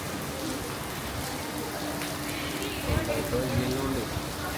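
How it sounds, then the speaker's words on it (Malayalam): Continuous patter of heavy rain falling on a surface, with a faint voice murmuring underneath at times. "നല്ല മഴയുണ്ട്, മഴ പെയ്തുകൊണ്ടിരിക്കുക"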